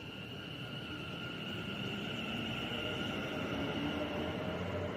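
A West Midlands Railway passenger train passes through Stechford station on the West Coast Main Line, a loud, steady rumble of wheels on rails with a sustained tonal whine, close by throughout, with no voices.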